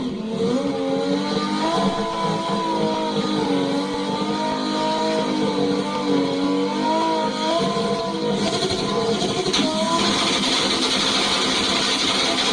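A high-performance car engine revs hard with a sustained, loud wailing note that rises and falls in pitch, heard alone and close for several seconds with a brief harsher burst near the end.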